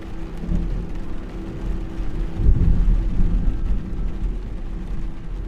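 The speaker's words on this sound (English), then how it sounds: "Listen to the thunder." A low, distant rumble of thunder during overnight rain swells briefly in the middle over steady background noise, with no voices.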